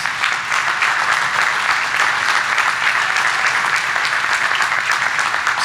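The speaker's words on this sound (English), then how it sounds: "Give yourself a round of applause." Loud, dense applause from a large audience at a 2023 college commencement ceremony, clapping continuously and evenly throughout without any speech.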